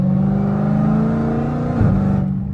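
A loud, throaty Dodge Challenger Hellcat Redeye V8 with catless mid pipes revs steadily with a deep rumble, then the pitch dips briefly before settling into a rough idle.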